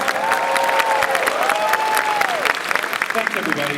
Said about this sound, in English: Big round of applause for the people that are letting us live here for a few days.